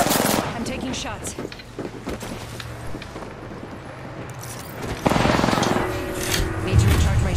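Gunfire in the Apex Legends video game, with dense bursts of rapid shots and bangs continuing throughout, louder toward the end.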